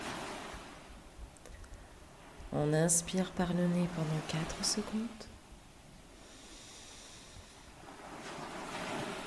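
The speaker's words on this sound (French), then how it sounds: "vous laisser faire cet exercice quelques minutes en écoutant le bruit des vagues" Steady ocean surf washes and rolls beneath a calm voice guiding a relaxation breathing exercise, the waves continuing alone at low level after the speaking stops.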